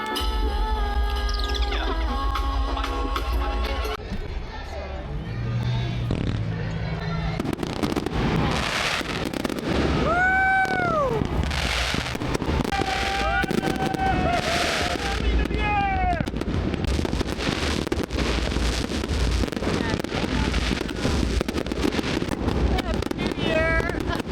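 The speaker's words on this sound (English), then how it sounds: "then headed back out on the water to watch the fireworks from the dinghy" New Year's fireworks burst over the water near a boat's dinghy, with repeated booms and crackles through a sustained, loud stretch, occasional whistling rockets rising and people talking and cheering throughout.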